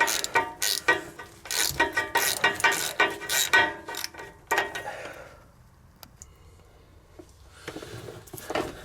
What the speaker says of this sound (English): Using this 12-point socket, 12 millimeter, tighten them up.